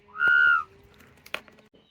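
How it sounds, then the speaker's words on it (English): A whistle plays a single sustained tone of about half a second, clear and fairly close, followed by a few faint knocks and clicks in a quiet van being fitted out. "play my whistle"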